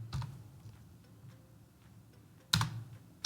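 Keys tapped on a computer keyboard while writing Python code in Google Colab, heard as a few soft clicks with a sharper burst of keystrokes near the end, faint and close.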